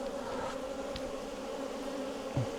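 Honey bees leave a somewhat defensive hive in a steady, dense buzzing drone that stays close and constant throughout, with no talk.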